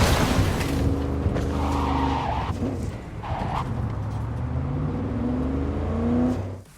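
The Alvarado, a 1970s-style Cadillac-like car with four front wheels in Cyberpunk 2077, roars along with a low engine drone while tires squeal and skid in long sweeping slides, loud and close until it cuts off.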